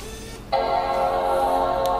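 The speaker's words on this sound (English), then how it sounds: "Making that wonderful Apple MacBook noise there." An Apple MacBook Pro being powered on gives its startup chime: a single sudden, sustained tonal chord that rings loud and steady after a short quiet moment.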